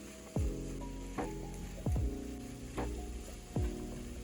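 A tofu scramble with greens and beans is stirred in a pan, with a few sharp scrapes and clacks of a utensil over a low steady sizzle, close and fairly quiet.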